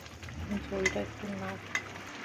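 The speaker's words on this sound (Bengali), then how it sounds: "ধনেপাতা কুচিটা একটু ঝোলের মধ্যে মিশিয়ে দিচ্ছি" Chopped coriander is stirred into a thin katla fish curry with potato, pointed gourd and drumstick. A soft, steady simmering sizzle plays under light stirring, with a faint voice in the background.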